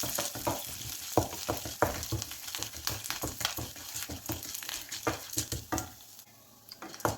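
Dals, coconut and chopped green chilli frying in a pan, a steady sizzle broken by repeated scrapes and taps as a spoon stirs the mixture, close and fairly loud, then a short quieter pause near the end.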